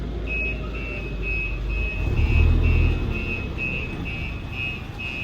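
A goods truck backing into its loading spot for a biscuit load, with steady reversing beeps repeating at an even pace over a low engine rumble that swells briefly midway.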